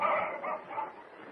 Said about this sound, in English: look at those huskies barking, Mr. Kent.